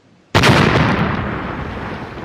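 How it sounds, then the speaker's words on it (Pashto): A single sharp firecracker bang bursts out loud and close after a brief quiet moment, then leaves a long, rough echoing tail that fades slowly. "ما دا پته و چې پټاخه و"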